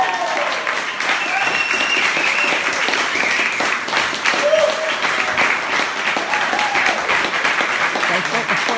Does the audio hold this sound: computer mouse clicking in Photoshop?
no